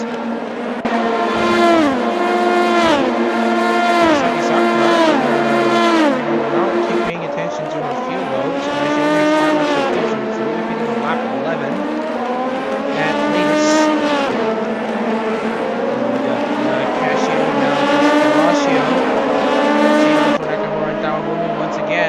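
Race cars in a Le Mans sim racing game roar down the Mulsanne stretch, loud layered engine notes climbing and dropping through gear changes as several cars run close together, continuous for the whole stretch.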